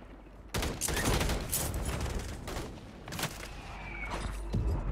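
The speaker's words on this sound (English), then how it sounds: "fucking mortar strike" Mortar strike in a Call of Duty match, a rapid run of loud sharp blasts and bursts over about five seconds, layered on continuous gunfire and battle noise.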